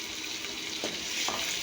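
Onion, tomato and curry leaves sautéing in a pan of oil with popped mustard seeds and urad dal for a peas masala gravy, a steady close sizzle with a couple of soft stirring scrapes, no talking.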